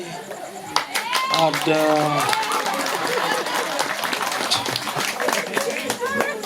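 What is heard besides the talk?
audience clapping hands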